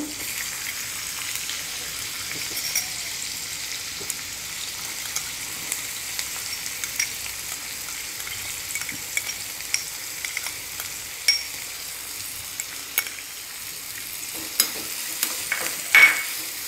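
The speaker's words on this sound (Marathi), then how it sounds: "आणि मंद गॅसवर छान कांदा गुलाबीसर होईपर्यंत परतून घेते" Finely chopped onion sautés slowly in a pan over a low flame while cooking banana flower curry, a soft continuous sizzle with scattered light clicks of stirring throughout, quiet and close.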